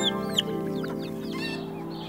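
Pet chickens clucking close by, several soft chirping and clucking calls scattered over a steady low background hum.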